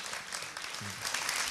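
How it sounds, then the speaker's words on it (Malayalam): Audience applause for a young singer on a TV singing show, a brief burst of clapping at moderate level that stays steady for about a second and a half. "നല്ല കൈയടി കൊടുക്കൂ"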